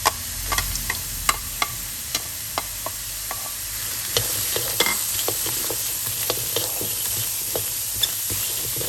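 Dried chili, smashed garlic and spices dry-roasting in a pan for jaew hon dipping sauce, with soft stirring scrapes and light ticks over a faint steady hiss, close and quiet with no talking.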